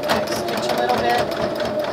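A sewing machine runs a steady, fast stitch close by as it backstitches over the seam of a fabric wristlet keychain, with a voice talking over the motor.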